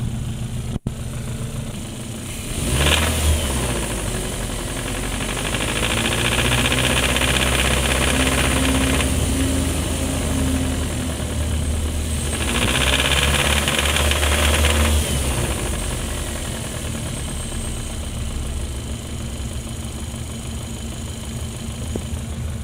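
A Hyundai engine with a known knocking fault idles with a steady rhythmic knock, then revs up twice in long swells before settling back to idle, recorded close under the hood.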